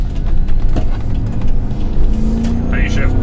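A 2012 Chevrolet Suburban with 200,000 miles drives along, its low engine and road rumble sitting under a person talking, with a faint whine rising near the end as a gear changes in manual mode.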